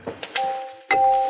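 A notification bell sound effect rings out alone: a few soft clicks lead into a clear, sustained ding, followed by a second, louder bright chime that rings on.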